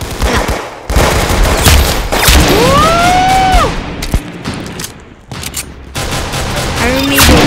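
Rapid bursts of automatic gunfire and shots in the Roblox shooter game Arsenal, loud and repeated in close succession, with rising and falling whistling tones between volleys.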